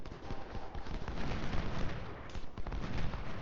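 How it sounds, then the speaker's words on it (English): Artillery firing in the Civil War strategy game Ultimate General Civil War, a dense, continuous barrage of booming cannon shots and crackling gunfire, steady and loud across the whole stretch with no pause. "Let's let Logan shoot this artillery"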